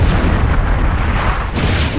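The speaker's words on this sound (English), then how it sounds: "What the hell? He's grenading me now." A grenade blast in the video game Turok 3: Shadow of Oblivion, a loud, dense rumbling boom that fills the whole moment and sustains without a break.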